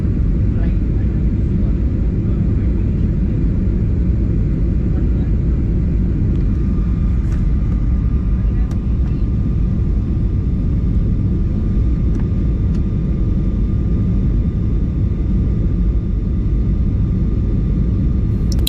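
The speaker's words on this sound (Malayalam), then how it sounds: "ഫ്ലൈറ്റ് താഴ്ന്നുകൊണ്ട് നിൽക്കുകയാണ്." Cabin of a passenger flight descending to land at Abu Dhabi, a steady loud engine and airflow roar holding constant throughout, with faint clicks over the drone.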